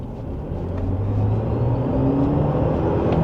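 GWM Cannon Alpha Hi4T plug-in hybrid ute accelerating gently, heard from inside as a loud, low rumbling hum with a rising whine, steady and continuous without speech.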